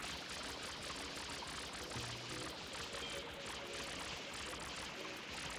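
In the Super Mario Sunshine video game, water sprays in a steady, unbroken rush like a pouring stream, fairly faint and continuous with no talking.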